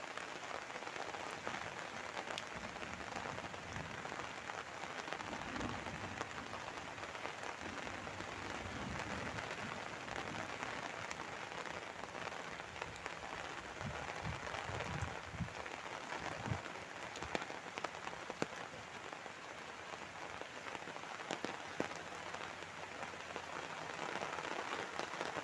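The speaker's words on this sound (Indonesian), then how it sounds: "Aduh, hujan makin deras" Heavy rain pours down steadily over a village, a dense, unbroken hiss of drops hitting surfaces that stays constant throughout and is heard from close by, with no talking.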